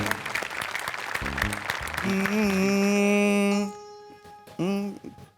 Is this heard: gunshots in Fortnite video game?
no